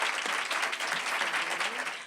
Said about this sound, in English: So let's give Michelle a wonderful round of applause